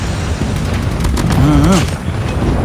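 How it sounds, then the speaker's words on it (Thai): Explosion and gunfire in Call of Duty with an M4 fitted with an 8x scope, a dense fusillade of shots and booms running continuously at close range beneath a player's voice. "มีคนทิ้งระเบิด"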